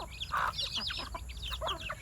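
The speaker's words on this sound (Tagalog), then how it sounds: "Yun yung mga manok natin." Several backyard chickens cluck and squawk in quick, overlapping calls close by, a busy flock chatter over quiet background noise.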